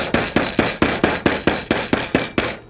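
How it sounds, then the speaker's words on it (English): A hammer pounds a peeled garlic clove to a pulp in about eleven sharp, evenly spaced thuds, close and loud, with no talking. "And then use the hammer to beat it to a pulp."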